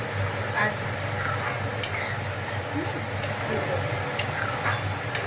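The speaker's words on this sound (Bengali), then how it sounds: "এটাকে একটু ভালো করে নাড়িয়ে চাড়িয়ে কষিয়ে নেবো।" A paste of ground cashew, melon seed and poppy seed fries in egg butter masala, stirred with a low continuous sizzle and occasional scrapes of a spatula against the pan, close and steady.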